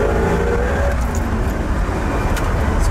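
A 1967 Chevrolet Corvette convertible with a four-speed is driven through corners, giving a continuous loud engine and road rumble mixed with wind noise throughout.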